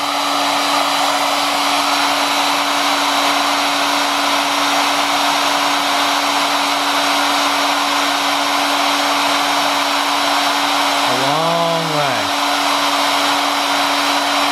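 Maslow CNC router running with a steady motor hum and a constant tonal whine, then a brief rising-and-falling sweep near the end as the Z axis moves and backs out; no talking.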